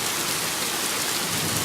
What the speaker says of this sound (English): There's just too much rain and it's got nowhere to go at this point.